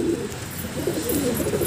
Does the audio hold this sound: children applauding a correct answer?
no